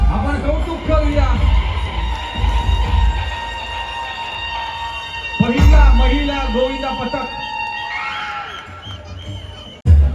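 A crowd at a large Navi Mumbai Dahi Handi festival cheers and applauds a women's Govinda team, with loud bursts of shouting and whoops under an amplified announcer talking throughout.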